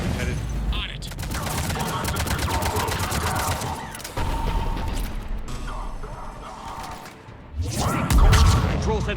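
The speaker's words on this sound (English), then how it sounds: "The cannon fire is clearing the way." Heavy cannon fire in the Mass Effect 3 video game booms through a dense, continuous battle din of rattling gunfire and crashes, with a louder blast swelling near the end.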